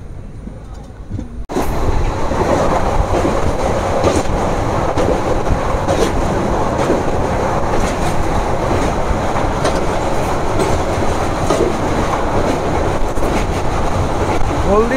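The Kolkata–Digha special train, number 03161, rumbles steadily along the broad-gauge Tamluk–Digha link after a quieter opening, loud and close from on board, with continuous wheel and carriage noise throughout.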